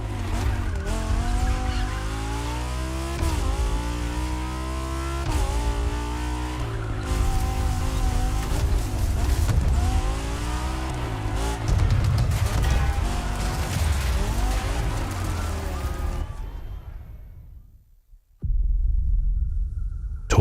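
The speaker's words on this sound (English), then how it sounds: "The Toyota Supra A80 Special Edition." Toyota Supra A80 Special Edition in the racing video game The Crew Motorfest: a loud, continuous engine drone with shifting revs and tire squeal runs for most of the clip, then cuts out briefly and resumes.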